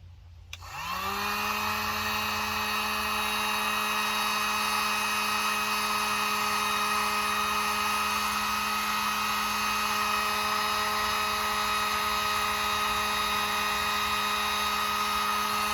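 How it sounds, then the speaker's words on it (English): A heat gun switches on and blows hot air to shrink tubing on solar battery cables, spinning up within a second into a loud, steady whine with a strong motor hum that holds for the rest of the clip. "Get the heat gun."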